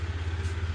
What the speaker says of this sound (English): Sorry about the noise of the washing machine.